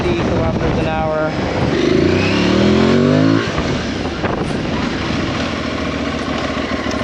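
An Aprilia Tuareg motorcycle brakes from 50 km/h using the rear brake first, its engine note rising and then dropping away steadily over continuous wind and road noise.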